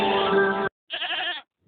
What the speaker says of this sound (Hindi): अरे, यह तो बकरी के चिल्लाने की आवाज है,